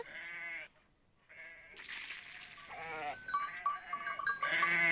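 Goats and kids bleat on an Alpine mountainside, several wavering calls overlapping one after another, some nearer and louder, with no talking.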